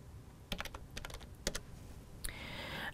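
Quiet keystrokes on a computer keyboard, a short irregular burst of clicks typing a search entry, faint and alone against a low background hiss.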